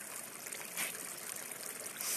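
Water flowing steadily in a stream in a sunny natural setting, a soft continuous trickle with a steady hiss, faint and alone with no voices.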